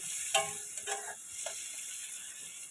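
Turmeric and chili powder are stirred in a hot pan for fish head muri ghonto: a soft, brief sizzle with a few light scraping strokes, no talking.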